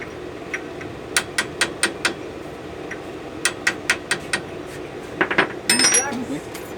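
Sharp metallic hammer strikes on a drum brake to tighten it, about a dozen ringing blows in uneven bursts, close and loud.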